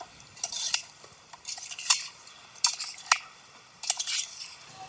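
Raw chicken is mixed with spices in a bowl, giving repeated bursts of scraping and clinking as a utensil stirs against the bowl, close and clear, with short pauses between strokes.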